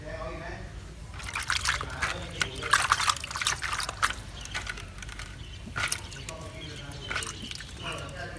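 Water poured onto Monthong durian seeds in a planting pot, splashing and trickling in uneven bursts with someone talking over it.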